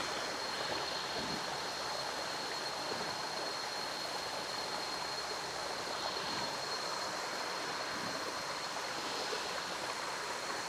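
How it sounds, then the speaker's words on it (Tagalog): A waterfall pours among rocks at Lamesang Bato in Ternate, Cavite, making a steady, dense rushing roar that holds unchanged from start to end with no voices. "May mga bato-bato dito. At may falls."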